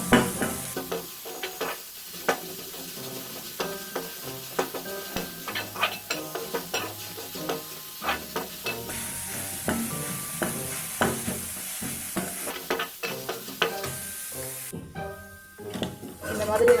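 Bottle gourd sautés in ghee for sorakkai payasam while a spoon stirs it, producing a moderate sizzle broken by repeated scraping and light clinks against the pan.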